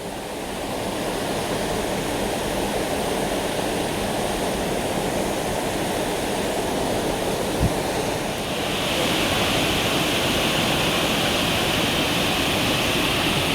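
Rushing water at a rainy-season flash-flood-prone waterfall at Bukit Bertenggek, Kuala Kubu Bharu, Malaysia, a steady loud broadband roar that continues without pause throughout, brightening in the upper range partway through.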